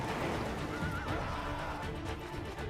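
A horse neighs loudly in a video game trailer, a long whinny over a dense, busy mix of hoofbeats and action sound, heard up close with no talk.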